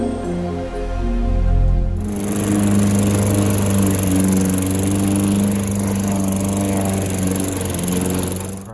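A battery-powered Worx string trimmer cuts wet, moist grass with a steady, close motor whine and line buzz. A low rumble runs before it starts, and no one talks.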